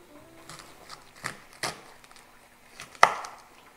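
Knife chops a vegetable core on a cutting board for sukiyaki, several sharp crisp cuts at irregular intervals, with the loudest crunch near the end, close and clear.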